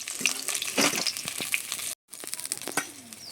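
Lentil badi dumplings frying in hot oil, a close, crackling sizzle with small pops that cuts out briefly and then resumes.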